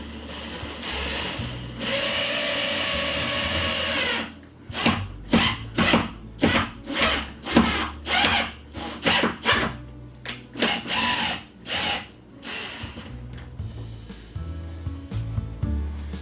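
A fastener is driven into an old plaster wall: a few seconds of continuous power-tool whirring, then a rapid run of sharp, evenly spaced hammer-like impacts, loud and close, followed by scattered scraping and knocking.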